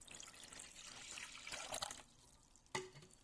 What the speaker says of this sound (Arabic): هلا هون على البارد بنضيف المي